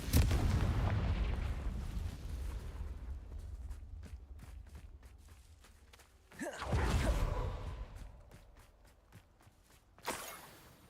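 Confringo fire-blast spells go off in Hogwarts Legacy as booming explosions, one heavy blast at the start, another mid-clip and a sharper burst near the end, separated by quieter rumbling and scattered crackles.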